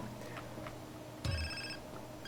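A phone rings in GTA San Andreas, a short electronic ringtone chirp that cuts in midway and repeats faintly at the end over low game background.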